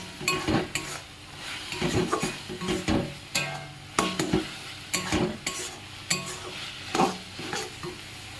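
Spice paste with turmeric and salt cooking in oil for mutton curry, repeated stirring scrapes and clanks of a spoon against the pot over a light sizzle, close and rhythmic.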